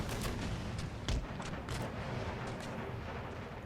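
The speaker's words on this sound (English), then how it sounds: "The enemy is concentrating their artillery fire towards our cavalry" Distant artillery bombardment in the video game Empire Total War, with howitzers firing at cavalry: a rapid series of muffled booms and cracks over a rumbling battlefield.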